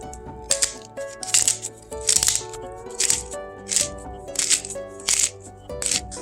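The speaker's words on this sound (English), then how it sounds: "let's whisk that together." A whisk beats a dressing of juice from two freshly squeezed limes with salt and ground pepper, producing about eight short, bright rattling bursts in a regular rhythm over a faint tonal background.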